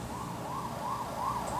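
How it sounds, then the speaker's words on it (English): A siren sound effect with a repeating wail, rising and falling five times in a steady rhythm at moderate loudness, played to illustrate the Doppler effect over a faint background hiss. "you can hear a siren come in illustrating the Doppler effect"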